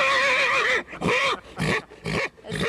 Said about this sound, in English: He's a young horse.